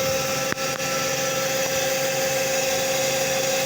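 A DC shunt motor running at steady speed on a lab test setup, a constant close electrical whine with a smooth mechanical hum, interrupted early by a couple of brief clicks.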